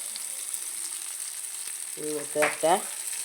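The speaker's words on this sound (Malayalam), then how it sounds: "ചൂടായിട്ടുണ്ട് ഉള്ളി കൊടുക്കാം ചെറിയ ഉള്ളി രണ്ട് വറ്റൽമുളക് ഇട്ട് കൊടുക്കുക" Small onions and two dried red chilies fry in hot oil for a sambar cheera curry, giving a steady close sizzle with a brief voice near the end.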